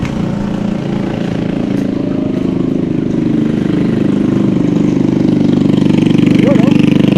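Tricycle engines idle in street traffic in Angono, Rizal, a loud, steady low rumbling drone that swells slightly toward the end, with faint voices in the background.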